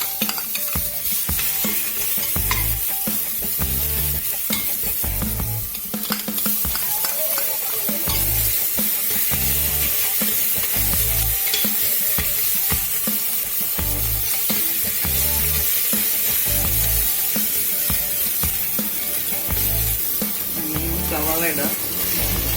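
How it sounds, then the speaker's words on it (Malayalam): Garlic and ginger frying in a pan for a beef curry, a loud steady sizzle with stirring that runs the whole time, mixed with rhythmic background music. "ഇനി ഇതിലേക്ക് വെളുത്തുള്ളി ഇഞ്ചി ഇടാം."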